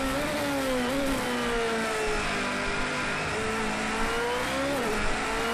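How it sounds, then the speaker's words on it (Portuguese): A race car engine in the Project Cars 2 racing game revs and drops as gears are shifted on the Monaco circuit, a loud continuous whine rising and falling in pitch. "Então troca de marcha, tira bem e vem voltando devagar."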